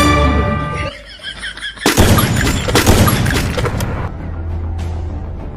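Rapid bursts of gunfire from the video game Free Fire crackle in quick succession, loud and close, with a short lull between volleys and a lingering game background hum afterward.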